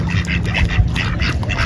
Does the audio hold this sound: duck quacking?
yes